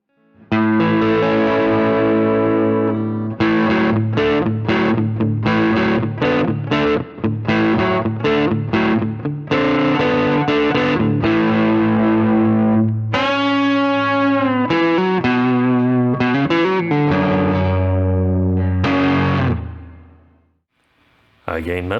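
Modded beginner electric guitar played through a crunch tone on the neck pickup, a continuous run of strummed chords and riffs with sustained distorted notes, loud and close, fading out at the end with no talking.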